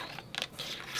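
A paper trimmer slices through fabric strips with a quiet, brief scraping cut and then a longer sliding rasp, faint and close.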